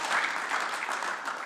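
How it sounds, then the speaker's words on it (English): A golf podcast audience gives a brief, steady round of applause for a star guest on stage, dense clapping without voices. "A round of applause, please,"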